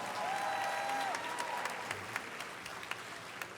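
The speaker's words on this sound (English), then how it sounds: "Please give them a round of applause." Audience at a high school graduation ceremony clapping faintly and at a distance, a soft continuous patter with a few sharper claps near the end.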